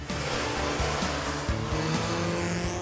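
Vauxhall Astra GTE engine pulling hard on a test drive, a loud, steady drone with stepped rises in pitch as it accelerates and changes gear, close and continuous with no talk over it.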